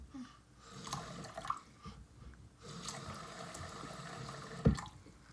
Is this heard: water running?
yes